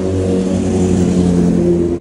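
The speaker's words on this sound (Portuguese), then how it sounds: "olha o barulho da moto." A motorcycle engine revs loudly and close by on a street in Sydney, Australia, a sustained throaty mid-pitched roar with steady harmonics over two seconds.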